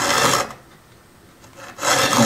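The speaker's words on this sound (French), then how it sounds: "Mon tire-point est placé toujours dans la même position, perpendiculaire à la lame." A triangular file rasps across the teeth of a veneer saw blade during marquetry sharpening, two close, steady filing strokes with a quiet pause between them, no talk.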